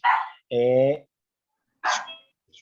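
A dog barks in short, sharp bursts, three or four close barks with pauses between, loud and nearby with no other sound.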